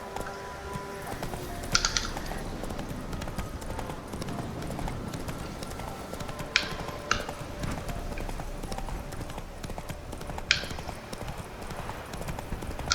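Horse hooves clip-clop steadily in The Witcher 3 as a mount trots along, a continuous rhythmic patter under game ambience with a few sharper accents.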